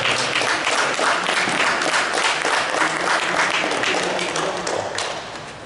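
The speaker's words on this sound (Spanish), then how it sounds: "Un aplauso para ellos, por favor" Dense, even clapping from an audience at a girls' singles tennis trophy ceremony in Sanxenxo, steady for several seconds before tapering off slightly at the end.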